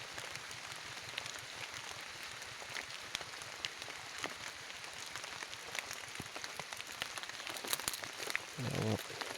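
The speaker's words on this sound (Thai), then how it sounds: "ฝนตกแล้ว" Steady rain falls on an April day as the sky turns dark, a soft continuous patter of drops on surfaces with a louder crackling burst near the end.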